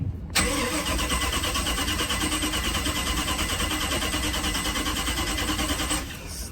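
A Volvo Penta 5.7GI boat engine cranks continuously for about six seconds, a steady rapid churning drone that never catches, recorded up close with no talking.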